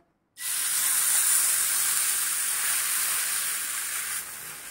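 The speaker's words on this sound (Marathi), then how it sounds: "छान बारीक गॅसवरती आपण आता एका साईडने भाजून घेऊया।" Green moong pancake batter cooking in a pan over a low gas flame, a steady bright sizzle that starts abruptly and holds evenly with no talking.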